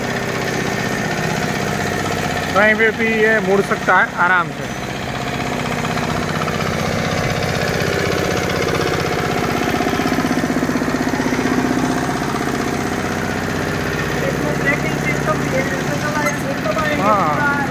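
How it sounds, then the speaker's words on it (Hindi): A small Giriraj nano tractor power tiller engine chugs steadily throughout with a rough, vibrating idle while someone talks over it. "Giriraj nano tractor"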